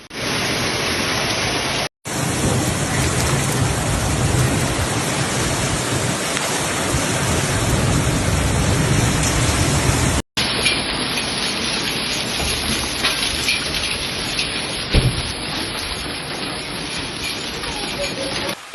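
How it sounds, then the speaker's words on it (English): Severe summer storm in Italy with sudden heavy rain, hail and gusting wind, a loud continuous roar of downpour that stays dense throughout, cut by two brief dropouts. "sudden downpours characterized by gusts of wind and hail that cause devastation for a few minutes"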